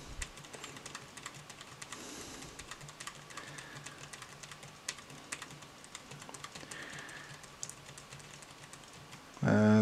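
Keys on an Acer Aspire ES11 laptop keyboard are tapped repeatedly in quick irregular clicks, close and fairly clear, with a brief louder burst at the end.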